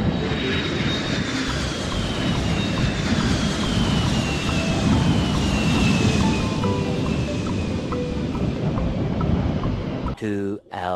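Airplane engine roar in a Minecraft video game, a steady, loud drone with a faint rising whine as the aircraft takes off, ending in a brief abrupt glitchy burst, and with talk over it.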